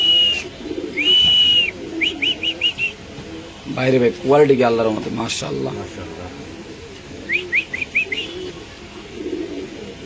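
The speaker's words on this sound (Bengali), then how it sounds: "অরিজিনালি পাকিস্তানি ব্রিড ডেনিশ কবুতর" Danish pigeons of an original Pakistani breed, a black male and a female, at a pigeon farm in Mirpur. They coo and chirp in short bursts beneath ongoing close conversation between men.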